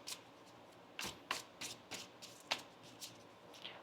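A deck of tarot cards is shuffled in a series of quick riffling bursts, close and fairly quiet, with short pauses between them and no talking.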